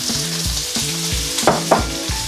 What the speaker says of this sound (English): Let it sear, don't disturb it any more than you have to.